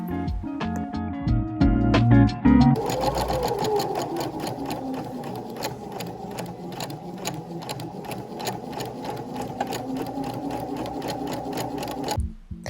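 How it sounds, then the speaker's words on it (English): A sewing machine runs in a steady, fast mechanical whir as it stitches, starting after a few clicks and stopping abruptly near the end. "I'm just sewing the sides together with a sewing machine"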